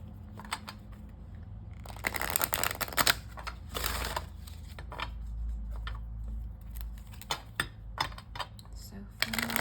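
Oracle cards are laid out for a reading, with bursts of shuffling, flicking and slapping card sounds at close range, separated by quieter pauses and small taps.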